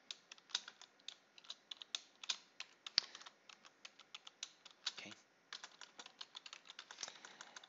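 Rapid, uneven keystrokes on a computer keyboard as a private key password is typed, close and fairly quiet, with clicks running steadily through the whole stretch and no talking.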